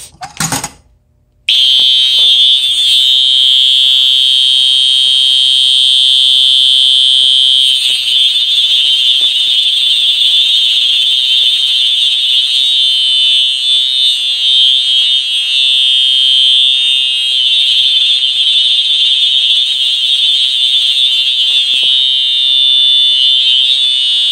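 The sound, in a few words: fire alarm sounding from pull station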